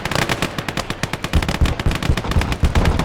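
Machine gun fire in Gates of Hell, a Finland versus USSR battle, comes as loud, rapid, continuous bursts of shots with heavy low thuds mixed in.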